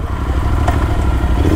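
A Royal Enfield Interceptor fitted with Hunter alloy wheels rides on wet, rain-soaked roads, giving a continuous close engine rumble mixed with road and wind noise, with no talking.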